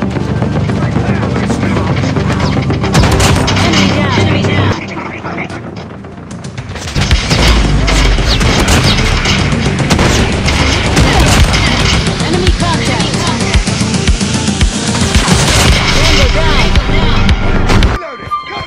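MK2 Breathstroke fire in COD Mobile sounds as loud shots and impacts over constant game noise, with a brief quieter stretch before the firing resumes, while someone talks over it.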